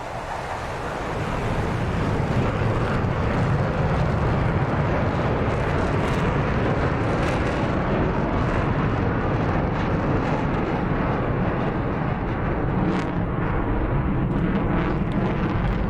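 Jet aircraft roar in a section takeoff in the DCS flight simulator. The engine noise builds into a loud, steady rush that holds for the whole stretch, with no voices over it.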